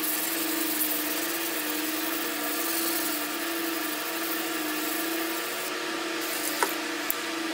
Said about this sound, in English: Let me get the other one and give him a quick lapping.